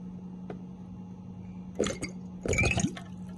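Water gushes out in two short splashy bursts during a kids' science experiment, close by over a low steady hum, with a faint drip before the first rush.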